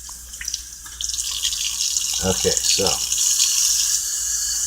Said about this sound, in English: I'm going to turn a little bit of cold water.